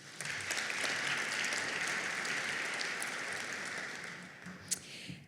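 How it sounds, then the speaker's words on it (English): A room full of advocates at an Ohio children's advocacy day applauds themselves, sustained crowd clapping that holds steady for several seconds and then tapers off with a few last claps. "I just want you to give yourselves an applause."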